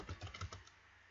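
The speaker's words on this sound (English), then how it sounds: "so just type in username, which is the top one there" Keystrokes on a computer keyboard while entering a username into a Visual Studio login form, a quick burst of close, crisp taps in the first half second, then fading into quiet room tone.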